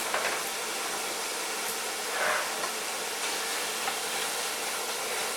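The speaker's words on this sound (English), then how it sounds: "So I've got it hot now on my Induction Hob, and I'm going to be adding my onions." Three large chopped onions hit a hot non-stick pot on an induction hob and sizzle in a steady, broadband hiss, close and continuous, with no talking.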